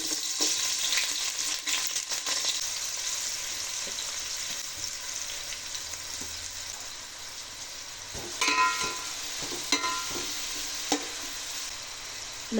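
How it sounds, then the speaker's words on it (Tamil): Chopped onions hit hot oil in a pan and fry with a steady, close hiss and crackle, broken by a few louder spatters and the scrape of stirring. "இப்போ நம்ம இதோட நறுக்கி வச்ச வெங்காயத்தை இதோட சேர்த்துக்கலாம்."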